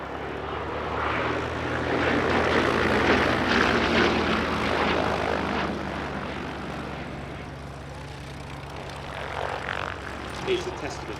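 Bristol Blenheim aircraft flying at an airshow, its piston engine and propeller drone a broad, steady roar that swells and fades slightly over several seconds.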